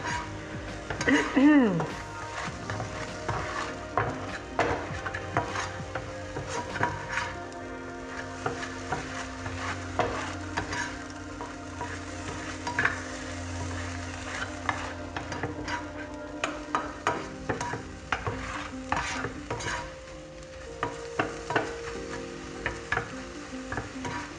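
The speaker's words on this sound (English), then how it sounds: "so there you go, scrambling my eggs" Eggs are stirred and scraped in a frying pan with a soft sizzle, utensil clicks and scrapes scattered throughout, close by, with a little talk.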